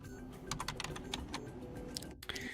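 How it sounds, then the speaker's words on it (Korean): Typing a Linux command on a computer keyboard: rapid, close key clicks in irregular bursts with a brief pause near the end, no voice present. "그래서 우리는 다음과 같이 입력할 것입니다."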